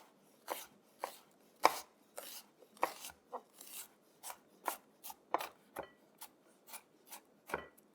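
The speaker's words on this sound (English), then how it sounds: "just finely chop the onion and put it in there" An onion is finely chopped with a knife on a board, a quick irregular run of crisp taps and slicing strokes, close and fairly quiet, with no talking.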